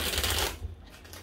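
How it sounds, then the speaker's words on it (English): Tarot cards riffled and shuffled by hand in a brisk papery flutter lasting about half a second, then trailing off into softer shuffling, close and fairly loud. "I'm going to give this 3 shuffles."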